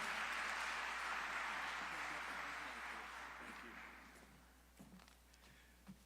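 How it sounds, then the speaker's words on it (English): Audience applause at the 2023 State of DeKalb County address, a broad sustained wash of clapping that gradually fades out over several seconds, followed by a few isolated sounds near the end. "A round of applause for Mr. Jim Miller"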